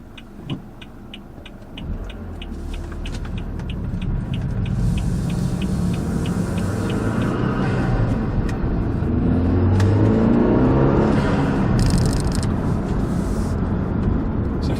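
A BMW F30 328i with the N20 engine and an aftermarket intercooler pulls away in sport mode, its engine note building steadily to a loud, sustained drone heard from inside the car.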